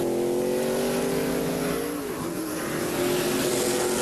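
A NASCAR Busch Series race car on a qualifying lap in Montreal, its engine a continuous loud droning whine that dips briefly in pitch mid-lap before climbing again.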